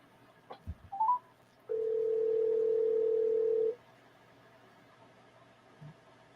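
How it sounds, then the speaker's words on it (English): Telephone dial tone as a call is placed to a guest on a political talk show: a few brief clicks, then one steady, even tone holding for about two seconds before cutting off, with no talking. "So bear with me as I make this phone call."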